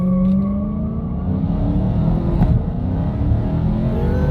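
A Dodge Hellcat's supercharged engine revs hard and steady at full throttle with the brake held, a loud, sustained, close-up roar with rising harmonic tones.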